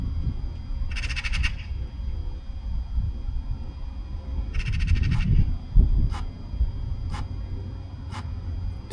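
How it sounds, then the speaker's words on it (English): Crows call in the background over steady wind noise outdoors, two rasping bursts followed by a few short, fainter caws spaced about a second apart. "I've got some bird friends chilling with me here,"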